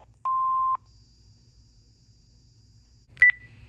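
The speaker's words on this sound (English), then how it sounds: "Please leave your name and phone number after the beep." Panasonic voicemail beep: a single steady mid-pitched tone lasting about half a second, followed after a near-silent pause by a brief sharper chirp.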